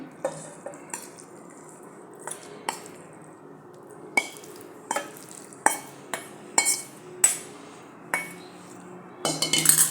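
Soaked semolina is scooped out of a bowl into a mixer jar, producing a series of sharp metallic clinks and scrapes of a spoon against steel vessels, spaced irregularly and growing busier toward the end.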